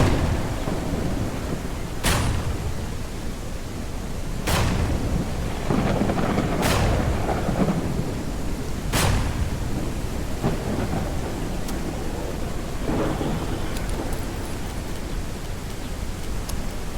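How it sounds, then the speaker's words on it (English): Thunderstorm in a zombie survival video game: steady, dense rain hiss fills the whole stretch while several sharp thunder cracks strike at irregular intervals, with softer distant rumbles trailing between them. "And some more thunderstorms as usual."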